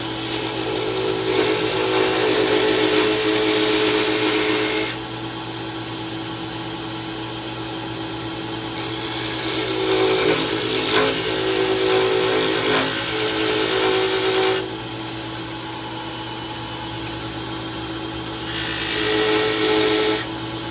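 A power tool whines loudly as it cuts a double notch into a Sapele mahogany fountain pen in three bursts, easing back to a lower motor hum between each cut.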